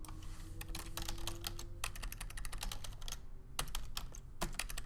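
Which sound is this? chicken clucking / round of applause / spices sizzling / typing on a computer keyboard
typing on a computer keyboard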